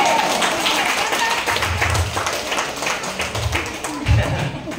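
A church congregation in Bignay, Lobo, Batangas claps during a healing service, with a steady patter of hands under a speaking voice that continues throughout.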